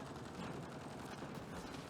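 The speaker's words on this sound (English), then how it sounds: "that's all kinds of crazy explosions going on there" Explosions and rapid gunfire crackle through a chaotic firefight in the video game Mass Effect: Andromeda, dense and continuous at a moderate level.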